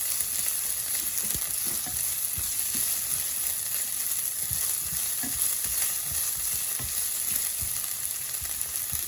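Onion frying in a pan for chicken curry, a constant bright sizzle with soft crackles throughout, loud and close with no voices.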